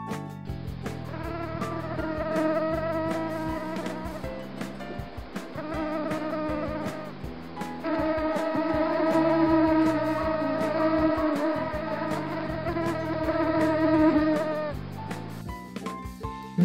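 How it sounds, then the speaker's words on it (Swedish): A mosquito buzzes in a steady high drone that wavers slightly in pitch, loud and close throughout with no voices. "Mygga."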